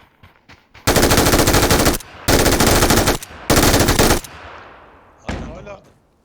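Loud bursts of automatic gunfire in a video game, three long sustained volleys followed by a shorter one, close and dominant with brief gaps, while a player talks faintly in between.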